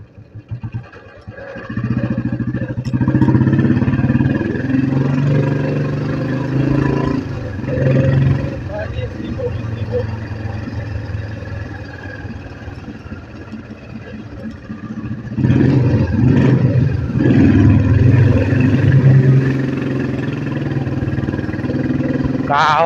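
Motorbike engine droning steadily while riding toward Pali Dam with a friend, loud and continuous with a surge in the later part, with voices talking over it at times.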